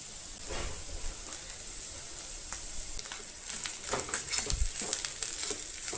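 Grated coconut roasts in a pan for masala, giving a soft, continuous dry sizzle broken by scraping stirs that grow busier toward the end.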